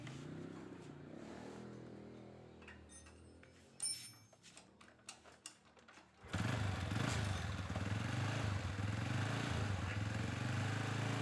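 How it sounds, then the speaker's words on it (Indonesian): A Honda Revo Absolute motorcycle engine cranks with sharp ticking clatter, then catches and settles into a loud, steady idle that runs to the end. "kita akan coba ya hidupkan motornya"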